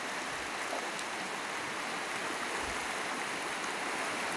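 Flood water more than ten feet high flowing after a storm, a steady broadband rushing roar like a fast stream, constant and fairly loud, with no voices.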